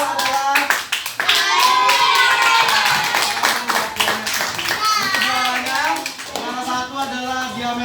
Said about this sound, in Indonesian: Tepuk tangan dulu buat titik pusat.